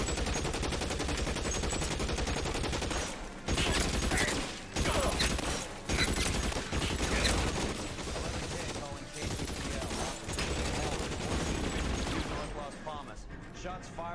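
Gunfire in the 1940s Los Angeles detective game L.A. Noire: dense, loud bursts of rapid shots crackle almost continuously, broken by short pauses, with voices faintly underneath.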